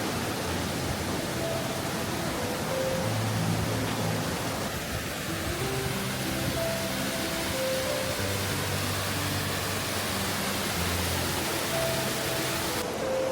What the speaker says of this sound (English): I'm right next to one of the main waterfalls here